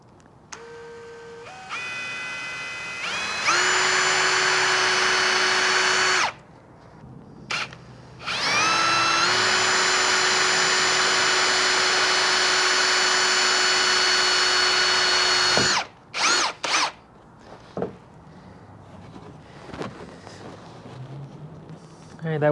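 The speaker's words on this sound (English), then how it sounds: "for this third hole, we're gonna try a standard drill bit" A power drill with a standard bit whines at steady speed through a long bore for a Toyota splash guard, pauses briefly, then runs again before stopping, followed by short bursts and quiet handling noises.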